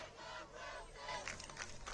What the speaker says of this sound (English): you can hear the crowd chanting Jacob Wilson